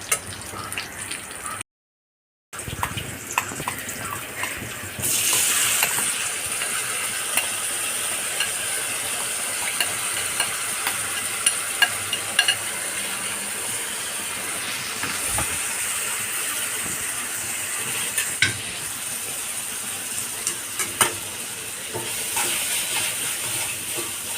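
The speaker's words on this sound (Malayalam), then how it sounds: "മീൻ നമുക്ക് ഇതിലേക്ക് ഇട്ട് കൊടുക്കാം" Fish sizzles and hisses as it fries in a pan for a fish pickle, a continuous soft crackle with occasional pops under the hiss, after a brief gap near the start.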